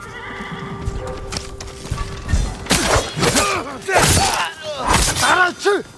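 Samurai horses in the game Ghost of Tsushima, several loud neighs and whinnies in close succession with thudding hoof clops and stamping beneath, a steady tone hanging under the opening seconds.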